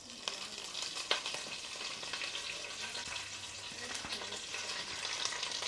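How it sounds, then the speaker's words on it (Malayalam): Curry leaves crackle and sizzle steadily in hot oil, with dense frying hiss and sharp pops, close and continuous with no talk. "കരിവേപ്പില നമ്മളിങ്ങനെ ഇലയെല്ലാം എടുത്ത് വി നീഡ് ടു പുട്ട്. ഇത് പൊട്ടുകയാണെങ്കിൽ അതിൻ്റെ അർത്ഥം എണ്ണ ചൂടായെന്നാണ്."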